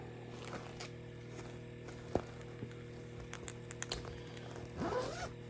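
A zipper is pulled on a small handmade fabric project bag with a chunky bead pull, giving faint, close, intermittent rasps over a low steady hum, with a longer zip near the end.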